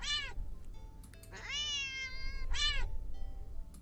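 A video-game cat gives three loud, drawn-out meows, close and clear, the middle one longest and rising then falling, with short gaps of faint background between them and no talking.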